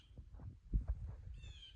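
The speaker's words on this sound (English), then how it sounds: "Birds chiming in." Faint, distant birds call outdoors in a quiet garden and nursery on a January day, with a couple of thin, high calls near the start and a brief thin call near the end over low background rumble.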